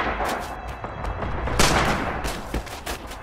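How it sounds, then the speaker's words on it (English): Rapid gunfire in the World War II shooter Red Orchestra 2, dense repeated bursts with sharp reports, loud and continuous with a heavier blast midway, no talk over it. "Machine gun time."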